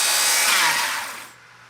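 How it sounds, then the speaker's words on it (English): A circular saw cutting through wood during a kickback test, heard as a loud, harsh whine of the blade biting into the board, cut short and fading into a lower spin-down within under two seconds. "I know how to run a circular saw the correct way, and I also know how to do it the wrong way."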